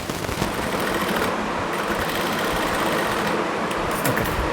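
A sewing machine stitches a sleeve seam in one continuous, rapid mechanical whir that stays steady and fairly loud throughout, with no voices.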